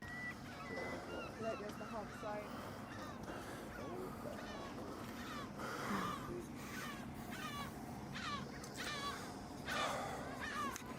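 Gulls call repeatedly from high up, a mix of harsh squawks and honking cries scattered throughout over a steady outdoor background, with people talking.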